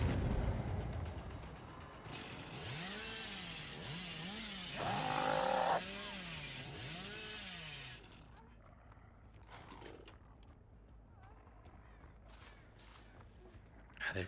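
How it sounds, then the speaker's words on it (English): In the Dead by Daylight video game, a chainsaw revs up loudly and rises and falls in pitch over several seconds, surges sharply, then cuts off, leaving faint game ambience and scattered thumps. "I can never get chainsaw hits with this thing"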